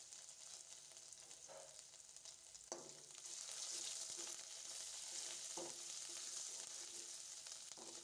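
Green chili, garlic and ginger paste sizzles quietly in a pan while being stirred, the base for a Kathiyawadi vaghareli khichadi. Soft steady frying is broken by a few scraping stirs.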